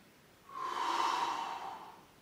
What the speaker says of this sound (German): Ihr atmet tief ein, Bauch geht nach außen